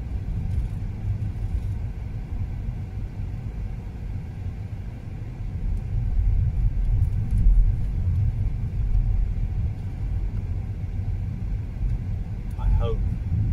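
A BMW 330e M Sport plug-in hybrid drives along with a steady low rumble of road and drivetrain noise throughout, swelling slightly midway, heard from inside the cabin with no voices.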